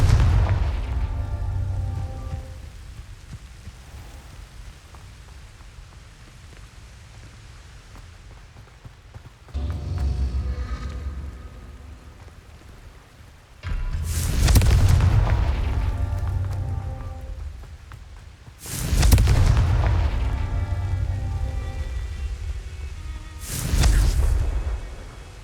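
Blasting-spell explosions in the Hogwarts Legacy video game: three heavy booming blasts with sharp onsets and rumbling decays, spaced several seconds apart over a quieter low ambient bed with a softer thud earlier.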